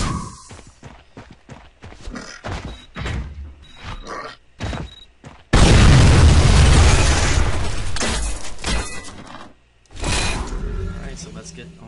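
An explosion in an Unreal Development Kit game level, a loud broad roaring boom that erupts suddenly after a series of short clicks and thuds, then decays over several seconds before a second burst.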